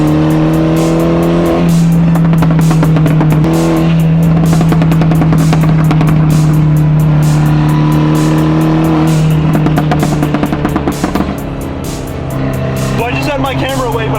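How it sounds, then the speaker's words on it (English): A turbocharged car accelerates hard with a loud, close engine roar that climbs through the revs. It drops off around a gear change, then surges again, with turbo whine and spooling sounds near the end. "That turbo noise was hitting different."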